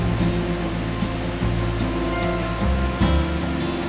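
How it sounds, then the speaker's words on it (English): A river flows through a pine forest in early summer, a steady, close rushing of water that fills the whole stretch without pause. "The smell of the pine forest and the sound of the river soothe my senses."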